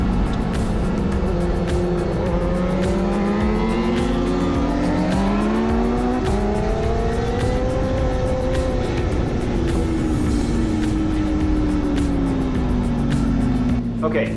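A 600cc and a 1000cc motorcycle race on a track, their engines a loud continuous whine whose pitch sweeps up and down through gear changes and braking.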